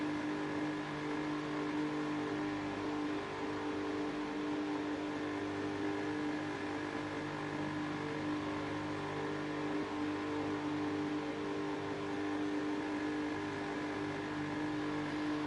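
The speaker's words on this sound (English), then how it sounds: "How is there a car driving?" A race car drives in the F1 26 racing video game at the China round, a steady tonal engine drone holding at a constant pitch throughout with no talking.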